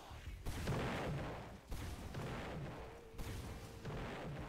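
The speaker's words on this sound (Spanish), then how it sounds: "¡Ah! ¡Una bazooka!" Bazooka blasts in a zombies video game, a run of loud booming explosions with brief gaps between them, dense and rumbling throughout with no talk.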